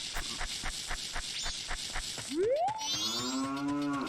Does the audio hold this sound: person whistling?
no